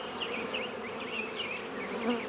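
Honey bees buzz at a hive whose queen has not returned, a steady, dense hum with individual insects whining past, moderately faint and alone.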